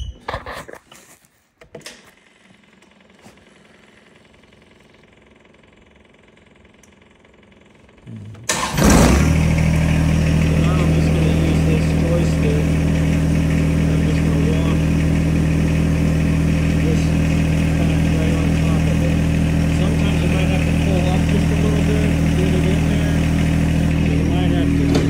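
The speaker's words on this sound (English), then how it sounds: "So let's start the tractor." A tractor engine cranks briefly, catches with a loud roar, then settles into a steady, rumbling idle in neutral that runs on continuously up close.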